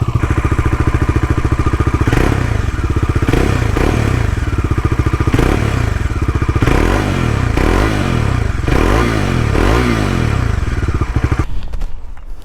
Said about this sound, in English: So this was the particular exhaust note of the bike.